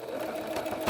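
A tabletop sewing machine stitches around the edge of a piece of fabric, its needle running in a fast, even, buzzing whir for just under a second, close to the listener.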